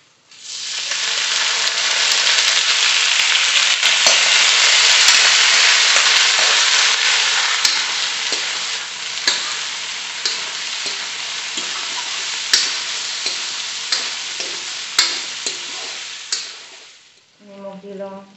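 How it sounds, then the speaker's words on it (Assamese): Pre-boiled pork sizzles loudly in hot oil in a pan with onions, a steady close frying hiss punctuated by clicks and taps of stirring, tapering off near the end with no talking. "মাংসখিনি ভাজি সৰু হৈ গ'ল এয়া তেলে ওলাল"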